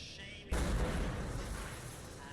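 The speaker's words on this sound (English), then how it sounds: "Nice explosion." A sudden heavy blast erupts in the video game Deus Ex: Human Revolution, a loud booming burst followed by a dense, rumbling roar that slowly fades.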